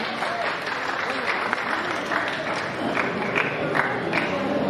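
An audience applauds at a film promotion event for the Marathi movie 'Aho Vikramaarka', with steady, dense clapping and crowd noise throughout, fairly distant and uniform.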